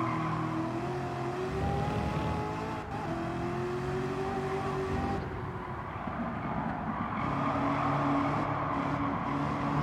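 Car engine in Gran Turismo 7, a steady loud drone with rising and falling pitch as the car accelerates and shifts through gears, with tire noise underneath and no voices.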